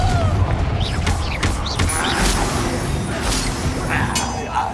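A Confringo blasting curse erupts during a Hogwarts Legacy duel, with heavy booms and crashing impacts layered over continuous loud battle noise, magical whooshes and clinks.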